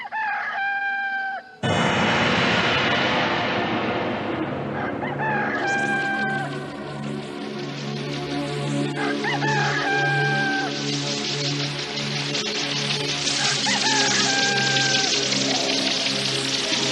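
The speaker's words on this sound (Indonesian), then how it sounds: "Tiba-tiba terdengar suara kokok ayam menandakan pagi telah datang." A rooster crows at dawn several times as a drama sound effect. The crows ring out loudly and nearby over a steady background bed, with long drawn-out calls spaced a few seconds apart.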